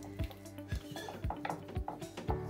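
Dishes and cutlery clink in a home kitchen as a container of homemade yogurt is covered, with about five sharp knocks in a steady rhythm over a soft background of lighter clatter.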